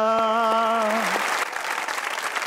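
A studio audience at a Pakistani comedy talk show breaks into clapping as a sung line with sustained musical tones fades out, the applause dense at first and thinning toward the end.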